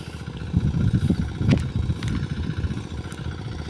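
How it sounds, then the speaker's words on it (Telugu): An oil engine pumping water from a field into a tank runs with a steady, low, thumping mechanical chug throughout, close and loud, with a brief clatter midway. "ఆయిల్ ఇంజిన్ నీళ్ళు తొట్టులో నుంచి బయటకు వస్తున్నాయి."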